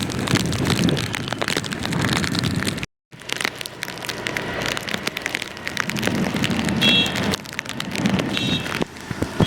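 Heavy rain in Junagadh keeps up a close, continuous hiss with a momentary dropout early on, then carries on steadily with light spatters.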